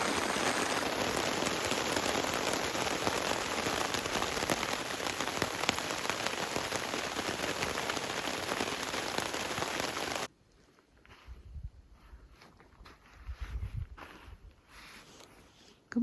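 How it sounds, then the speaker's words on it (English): Heavy rain pours steadily at a Yukon moose camp, a loud, dense patter drumming on surfaces for about ten seconds before dropping away to quiet with faint rustling and a few low thumps. "It's just been pouring rain for more than an hour."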